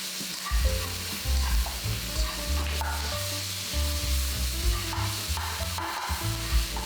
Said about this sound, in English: Now we're gonna really stir this around for about 3 minutes in medium-high heat until they become translucent.